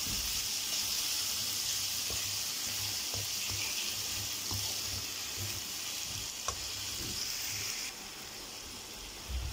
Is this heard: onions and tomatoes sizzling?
yes